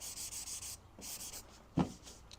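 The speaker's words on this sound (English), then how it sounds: "I'm spending a couple more days sanding it" Repeated rhythmic sanding strokes scrape back and forth across a car body, close and steady, with a brief knock near the end.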